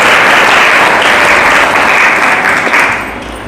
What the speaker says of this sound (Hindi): ताली बजाकर खुदा की महिमा दो।